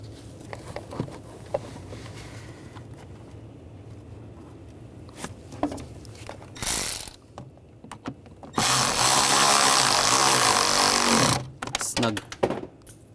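Screws being driven down to fasten the intake box on a 2009-2017 Volkswagen Tiguan during intercooler replacement, with short bursts of a power driver, including a long steady whir near the end, amid clicks and handling noise.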